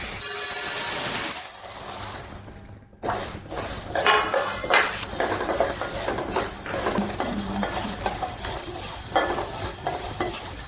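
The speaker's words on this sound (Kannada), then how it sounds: "ಉದ್ದಿನ ಬೇಳೆನೂ ಕೂಡ ಲೋ ಫ್ಲೇಮಲ್ಲೇ ಚೆನ್ನಾಗಿ ಫ್ರೈ ಮಾಡ್ಕೊಳ್ಳೋಣ." Urad dal, 200 grams, fries on a low flame for sambar powder, giving a soft continuous sizzle and hiss with scraping stir strokes. There is a brief quiet gap early on, then steady frying resumes.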